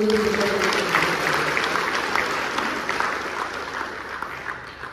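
Sustained applause from a crowd at a Shiv Sena sports celebration event, a dense continuous wash of clapping that holds steady for several seconds and slowly tapers, with no talk over it.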